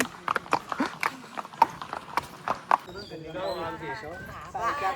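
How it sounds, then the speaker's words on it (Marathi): Horses with riders on the trail at Matheran, their hooves clip-clopping in a quick, uneven rhythm close by, followed by people talking. "मागे घोडे बघा आणि घोड्यांच्यावरची माणसं"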